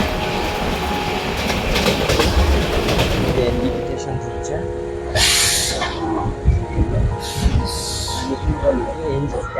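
A train rumbles and clatters loudly as it rolls into New Jalpaiguri station, heard from a general compartment, with hissing and squeaks; voices and announcements can be heard partway through.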